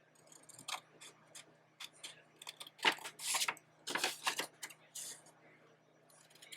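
Scissors snip through one-sided 8.5 x 11 paper while shaping a junk journal pocket flap, a run of short quiet cuts and clicks in uneven bursts, with a few denser crunching strokes in the middle and faint hum underneath.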